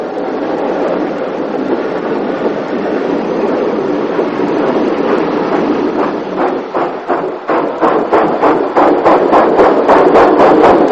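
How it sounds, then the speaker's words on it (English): Great Western 1600 class small pannier tank steam locomotive hauling a local passenger train, a steady loud rumble that breaks into rhythmic clickety-clack beats of wheels over rail joints as it draws near. "Passenger trains were normally handled by the Great Western's last design of light passenger tank engines, the 1600 small panniers"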